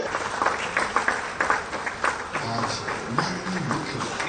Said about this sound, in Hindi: तालियां जोरदार हो